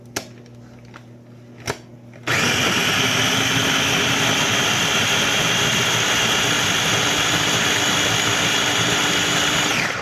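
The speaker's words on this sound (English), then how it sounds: "I'm just going to blend it for just a second." After a few soft clicks, a food processor whirs to life and blends jalapeno cilantro hummus loudly and steadily, a dense high motor roar continuing to the end.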